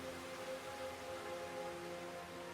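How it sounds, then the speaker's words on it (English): Rain falls in a video game scene as a steady, soft, even hiss with a faint low hum beneath, quiet and unbroken throughout. "The rain. It never stops."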